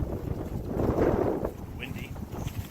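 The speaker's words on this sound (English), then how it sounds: "Windy." Gusty wind buffets the microphone in a low, rumbling roar, swelling in the middle, with faint voices underneath.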